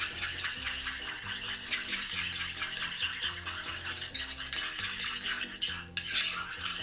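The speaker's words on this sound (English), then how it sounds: "Mayonnaise, ketchup, and mustard. Just give those a little mix." A spoon mixes mayonnaise, ketchup and mustard into burger sauce in a bowl. The continuous scraping and light clinking runs steadily beneath background music.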